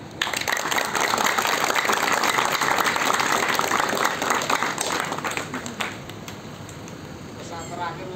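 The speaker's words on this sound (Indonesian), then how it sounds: "Biasa tepuk tangan." An audience at an evening talk held at the Jati bus terminal in Kudus breaks into dense, sustained hand-clapping that gradually fades out, with voices mixed in.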